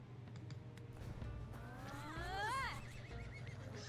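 Horses neigh in the fantasy strategy game Fantasy General II, a rising, wavering whinny that swells loudly over a steady low game soundtrack and fades out, with light clicking beforehand.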